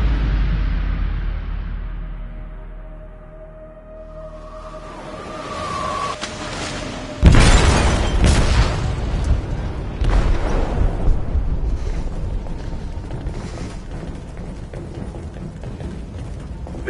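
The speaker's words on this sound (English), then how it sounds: "They detonated an explosive in the hold." An explosive detonates in the hold of a ship: a sudden loud blast cuts in after a low rumbling build-up, followed by sustained roaring, rumbling and crackling debris noise that fades only slowly.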